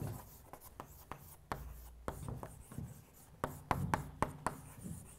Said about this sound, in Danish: hvis jeg skriver forbruget, så vil jeg også skrive acceleration